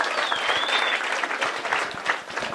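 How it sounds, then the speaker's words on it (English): Audience applause for Ben at a stand-up comedy show, a dense, steady round of clapping from the crowd lasting the whole stretch, with a faint whistle early on and no talk over it. "Can we give Ben a round of applause, please?"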